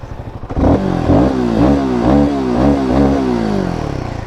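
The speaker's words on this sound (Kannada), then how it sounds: "ಒಂದು ಸಲ ಎಕ್ಸಾಸ್ಟ್ ನೋಟ್ ಕೇಳೋದ." Royal Enfield Himalayan 450 motorcycle engine revving outdoors on rough terrain, its exhaust note rising and falling in about six repeated throttle blips after a short idle, loud and close with no talk.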